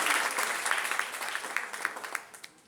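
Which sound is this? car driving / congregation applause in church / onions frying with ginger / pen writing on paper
congregation applause in church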